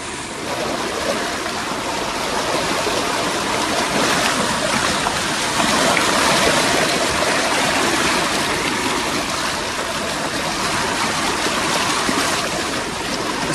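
Water rushes and flows steadily and loudly, a continuous broad wash of sound with no talking.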